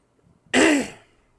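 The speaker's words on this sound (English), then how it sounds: "Excuse me, I had to clear my throat." One sharp, harsh throat clearing, close and loud, lasting about half a second and surrounded by quiet.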